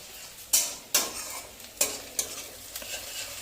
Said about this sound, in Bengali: তো এখানে পেঁয়াজ আর রসুনের পেস্টটাও আমি দিয়ে দেবো।